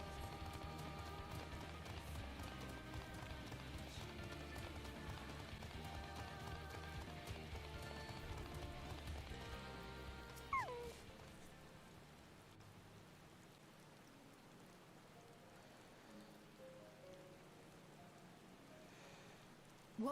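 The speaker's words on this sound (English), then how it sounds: "It's raining." Steady rain falls in Final Fantasy XIV, a soft continuous patter with layered game ambience and music that thins out midway, leaving a quieter wash of rain.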